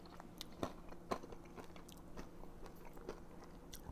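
Crunchy air-fried salmon popcorn is bitten and chewed up close, with a few sharp crisp crunches followed by quieter chewing, faint and without talk.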